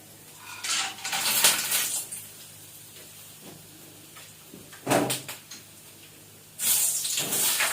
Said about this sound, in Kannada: ಇದಕ್ಕೆ ಶೇಂಗಾ ಬೀಜ ಹಾಕಂತ ಇದ್ದೀನಿ.